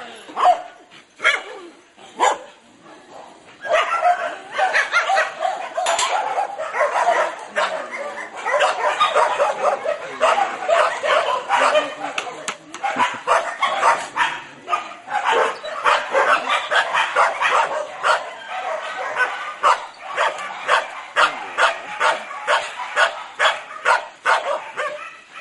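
Many dogs at a rescue shelter in the Philippines bark repeatedly in a loud, overlapping chorus of sharp barks and yips that continues without pause throughout.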